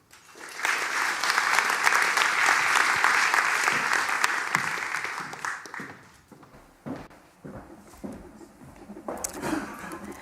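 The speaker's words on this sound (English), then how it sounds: "So give a warm applause for Sherida Kuffour." An audience breaks into loud, dense applause for a speaker, holding strong for several seconds before thinning into scattered claps, taps and shuffling footsteps near the end.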